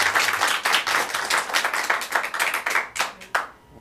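An open mic comedy competition crowd claps in a dense, steady burst of many hands, fairly close, tapering off near the end with a brief voice.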